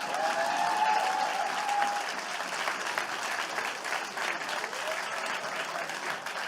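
A room full of people clapping steadily at a church service, a dense even patter that holds for several seconds without speech over it.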